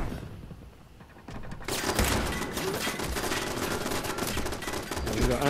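Automated turrets in Fallout 76 open up with rapid, continuous bursts of gunfire that kick in suddenly after a quieter stretch, loud and sustained to the end.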